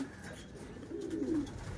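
Racing pigeons coo softly at their loft after returning from a 99 km summer training race in Candelaria, Quezon, with a few low, faint, rolling calls that rise in the second half.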